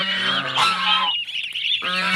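White geese on a farm honk loudly and close by, harsh nasal calls repeated in two dense bursts separated by a brief lull.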